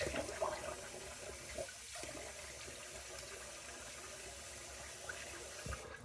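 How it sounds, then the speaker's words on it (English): Cold water runs from a tap while a face is rinsed during a shave, a faint steady splashing stream with a few soft splashes near the start and the end. "So we're going to rinse it off now with cold water."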